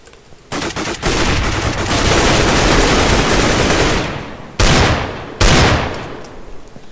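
Loud bursts of AK rifle fire in Minecraft Minestrike, a long sustained volley followed by two short separate bursts, close and dominant with no talk.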